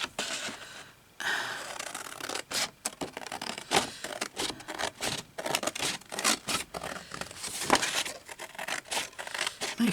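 Scissors cutting through paper card along a score line, a series of close, uneven snips and rustling scrapes with short pauses between cuts.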